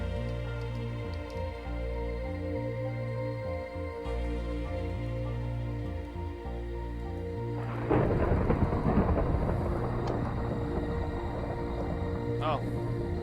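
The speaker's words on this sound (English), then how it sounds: "Apparently stuff is messed up when there's thunder." A Minecraft thunderstorm breaks in with a loud rolling thunderclap midway and rain hissing steadily after, all over a repeating synthesized music loop.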